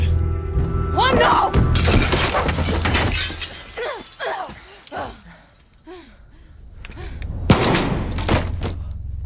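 Gunfire in the Far Cry 6 mission The Lion's Den, a loud burst of sharp shots and shattering impacts with thuds, dipping into quieter moments before another crack, mixed with voices talking and shouting.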